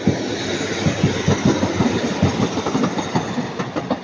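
Passenger train 150108 runs past close by at Ardwick on its Manchester Piccadilly to Hazel Grove service, a loud steady rumble marked by rapid rhythmic wheel clatter over rail joints.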